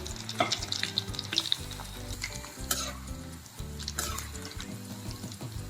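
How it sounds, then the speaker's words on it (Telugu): Vegetable pocket samosas deep-frying in hot oil, a soft continuous bubbling sizzle with occasional clinks and scrapes of a utensil turning them, quiet and close, no talking. "ఇలా బ్రౌన్ కలర్ వచ్చేదాకా ఇలాగా పైకి కిందకి కలుపుకుంటే కలర్ వచ్చాక తీసేద్దాం"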